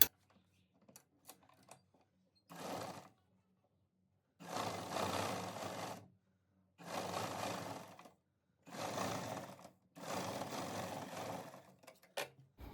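A sewing machine stitches a hook-and-eye strip onto a blouse in five quiet, close bursts of a second or two each, with a few faint clicks between runs.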